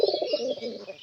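A large pigeon kept at a home loft coos close by in a soft, throaty, rolling call with a faint higher chirp above it, heard alone without talk.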